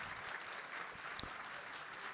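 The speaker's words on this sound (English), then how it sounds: "let's do a warm round of applause" Warm applause from a gathered audience thanking guests, a continuous, even patter of many hands clapping, soft and somewhat distant, with no speech over it.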